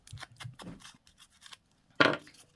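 Paper is torn in a few short scratchy rips while distressing a spooky gothic journal tag, followed after a pause by one louder, sharper tear, close up with no voices.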